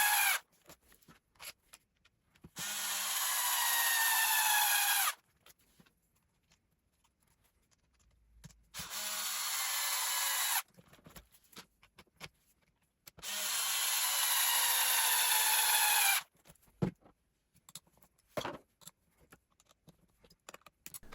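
A cordless electric screwdriver drives bolts into an Arrma Senton 4x2 Boost RC car chassis in three sustained whirring bursts, with quiet handling clicks and rattles between them.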